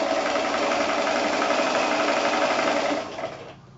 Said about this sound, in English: I'm going to take that to the sewing machine. I'm going to sew directly on that fold line,